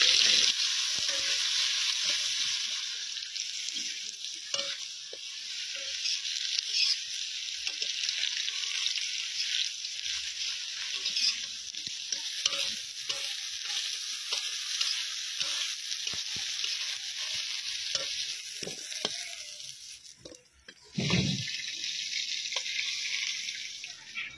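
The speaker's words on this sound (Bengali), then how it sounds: "এবার আলু, কলা, ডাঁটা ভেজে নিই।" Potato, plantain and vegetable stems fry in hot oil in a village kitchen, giving a steady, loud sizzle throughout with occasional stirring clinks and a brief thud near the end, and no talk.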